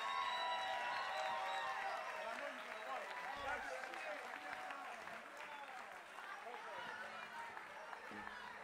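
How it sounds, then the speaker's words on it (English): Audience applause and cheering at a Saturday night dance event, a steady crowd wash lasting throughout with voices and whoops mixed in. "I want everybody to give this man here a big round of applause"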